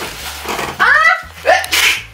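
A sharp sneeze with a quick inhale, followed by a second, shorter sneeze, close to the microphone, with faint background noise.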